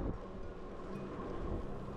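Steady rain at Seven Sisters in London while riding a Himiway Cruiser e-bike, a dense, even hiss and rumble with wind-like buffeting that stays loud and constant throughout, with no voices.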